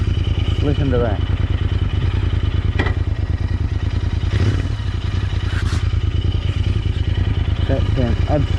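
A Royal Enfield 650 motorcycle engine runs steadily nearby with a throbbing, even pulse and light mechanical clatter, a few brief human sounds over it.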